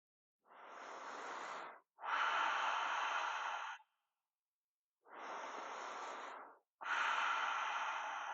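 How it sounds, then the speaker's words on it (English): Deep, slow breathing during a yoga practice for runners: four long, close breaths, each lasting a second or two, with quiet gaps between them. "Breathing nice and deep into the belly, exhaling long and slow."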